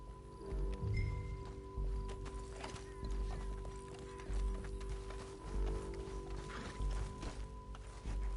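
Horses gallop in Red Dead Redemption, rapid clip-clop hoofbeats pounding in steady surges over a busy low rumble, with faint mechanical clatter and a steady tone underneath.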